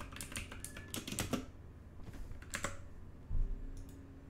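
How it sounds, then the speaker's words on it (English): Rapid typing on a computer keyboard picked up by a streaming mic, with bursts of close, clattering keystrokes in an uneven rhythm separated by short pauses and a low thump near the end. "Apologies if the keyboard's loud."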